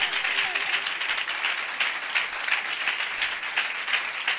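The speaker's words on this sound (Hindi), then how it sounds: "तालियों में दम नहीं है।" Sunday church congregation applauds during a live sermon, loud, continuous clapping from many hands in a steady rhythm, with little talk beneath it.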